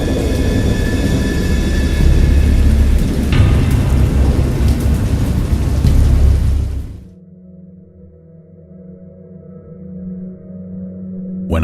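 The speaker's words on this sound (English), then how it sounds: "I have indistinct recollections of a great storm sometime after I reached the boat." Heavy rain pours in a loud, steady wash with deep rolling thunder for about seven seconds, then cuts to a quieter low rumble of distant storm.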